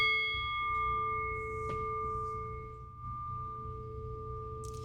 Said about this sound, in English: By the sound of the bell,